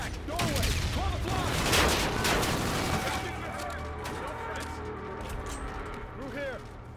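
Dense gunfire in the video game Call of Duty Infinite Warfare: rapid overlapping rifle bursts and heavy booms fill the scene, loud and close, gradually thinning toward the end, with voices talking over the shooting.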